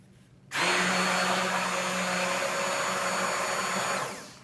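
Stick blender whirring through a cold process sea salt soap batch after fragrance oil goes in, a steady loud motor drone starting abruptly and running for several seconds before tapering off.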